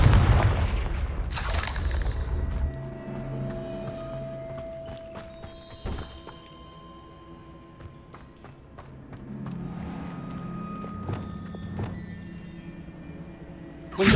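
Confringo blasting-curse explosions in the video game Hogwarts Legacy, a loud burst early on followed by sharper booming impacts and crackling debris, with quieter game ambience between blasts.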